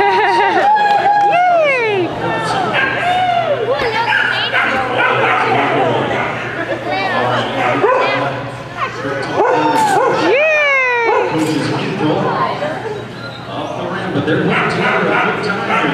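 An Australian cattle dog, 1.5 years old, yips, barks and whines excitedly at a horse and hound event, the bursts close and frequent over crowd noise, while a commentator talks throughout.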